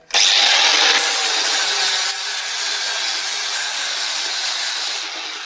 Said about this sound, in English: The angle grinder on that now.